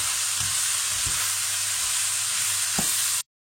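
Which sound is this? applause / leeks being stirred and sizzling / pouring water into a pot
leeks being stirred and sizzling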